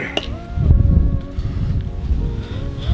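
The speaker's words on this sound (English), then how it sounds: "It's a little windy out here." Wind blows outdoors beside a hot tub, a low gusty rumble of microphone buffeting that swells and eases over a few seconds, with faint tonal hum in the background.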